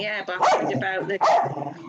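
A dog named Archie lets out two short, sharp barks close by, mixed in with a person talking over them indoors.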